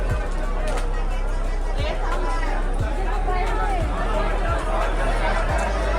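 Crowd chatter and murmuring in a dense temple queue at Ujjain's Mahakal temple, with a continuous loud babble of many voices close by and repeated dull low thumps underneath.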